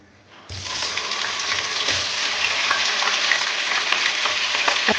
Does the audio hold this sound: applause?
no